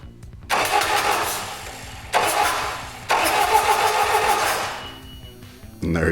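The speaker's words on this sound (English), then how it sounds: "with all the compression of the motor as it spins over" A Doosan diesel engine from a Bobcat skid steer cranks over without firing, three separate bursts of strained, rhythmic starter churning against compression, loud and close, with brief pauses between and no catch.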